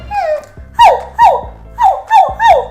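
Small dog, a cartoonish toy-play pup, giving five quick, close yips or whimpery barks in a fairly even rhythm, with no talk over them.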